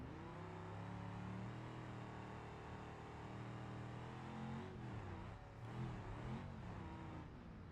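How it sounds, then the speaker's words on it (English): A car engine in a video game hums low and muffled with a steady droning tone, its pitch dipping and climbing near the end, heard alone at low level. "The engine sounds are still really muffled."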